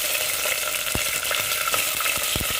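Chicken fries in a pan for a korma with a loud, constant hiss, and sharper stirring scrapes and pops stand out against the sizzle.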